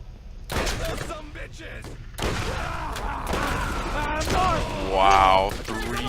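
Gunfire in the Borderlands video game, The Secret Armory of General Knoxx, sounds in repeated bursts of shots under loud talk, with the clatter continuing through most of the stretch.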